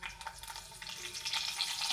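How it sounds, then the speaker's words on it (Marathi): Cumin and mustard seeds with curry leaves crackle and sizzle in hot oil for a Marathi home-style dal tempering, a steady close spitting fry with bright popping bursts throughout and no talking. "जिरा मोहरीची फोडणी देते"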